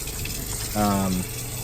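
Water runs from a camper van sink tap with the electric water pump switched on, a steady near gush swelling briefly with a tonal pump hum partway through.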